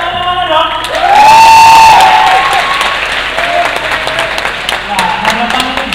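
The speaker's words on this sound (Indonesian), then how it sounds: "Bapak, tepuk tangannya mana dong?" An audience at a campus anniversary event breaks into loud applause and cheering, with a sustained shout or whistle early on, then steady clapping from the crowd under scattered voices.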